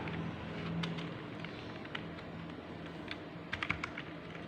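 Fast, light clicking of keys on a computer keyboard, a steady patter of soft taps with a few sharper strikes near the end, heard close under a faint background hum.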